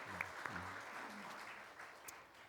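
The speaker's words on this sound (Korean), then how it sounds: "격려의 박수." A church congregation gives a faint, soft round of encouraging applause, distant and low, with a brief voice near the start.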